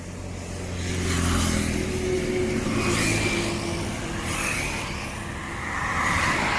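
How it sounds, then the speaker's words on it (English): A Royal Enfield Continental GT 650 motorcycle with a Red Rooster aftermarket exhaust revs repeatedly, throaty and rumbling, rising and falling in a few bursts at close range. "Even this bike is running on Red Rooster's exhaust."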